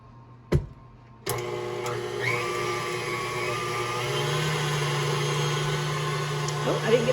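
Electric mixer or blender whirring through cloud bread batter with cream cheese, a steady motor hum that starts after a couple of clattering knocks and holds at even volume to the end.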